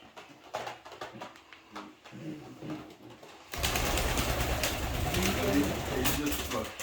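Tame, docile birds coo softly at first, then a denser, louder wash of cooing and rustling fills the second half, with no clear talk.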